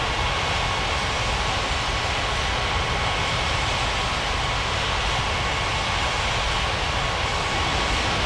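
Steady, loud broadband jet engine roar from airliners at the gates in an air traffic control game, a constant drone with no breaks and no talking.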